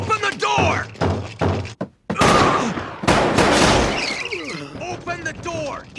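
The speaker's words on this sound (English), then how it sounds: "Gunshots!" Gunfire in the anime Black Lagoon: a couple of sharp, loud blasts followed by a rumbling burst, mixed with shouting voices and other loud action sounds.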